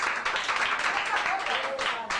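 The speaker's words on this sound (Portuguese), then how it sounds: "No final, o público aplaude." Theatre audience applauding at the end of a children's play, a dense, steady wash of clapping with a few louder swells, mixed with faint voices.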